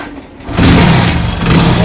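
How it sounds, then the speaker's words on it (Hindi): A Hero Passion Pro motorcycle with a sound problem is kick-started: quiet mechanical shuffling, then the engine catches and settles into a loud, steady mid-pitched running note close by. "चाबी को यहाँ पर ऑन करेंगे, यहाँ पर किक से स्टार्ट मारेंगे"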